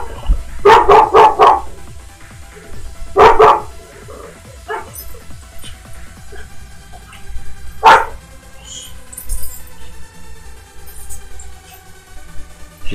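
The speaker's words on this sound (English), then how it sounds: "makes the dog bark" A dog barks in several sharp bursts, a quick double volley near the start, another cluster a few seconds later, then scattered single yips and a final bark, moderately close in a quiet room.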